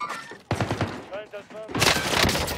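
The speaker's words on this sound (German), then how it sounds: "ich schieße den Kasten ab!" Video game gunfire aimed at a box, a sharp burst of shots near the end after a stretch of excited talking, loud and close.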